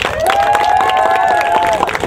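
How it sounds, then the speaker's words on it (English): Parents and kids clap and cheer at a youth soccer tournament final, with a sustained whooping cheer rising above the close, busy crackle of applause. "Give yourself a round of applause for making it this far."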